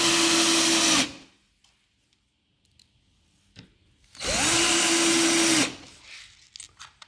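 A cordless drill drives small screws into a cabinet door hinge on a microwave oven cabinet, in two steady whirring bursts of about a second each, separated by quiet clicks and handling noise.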